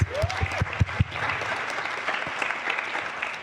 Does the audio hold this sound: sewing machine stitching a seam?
no